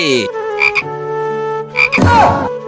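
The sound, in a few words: person imitating a frog croaking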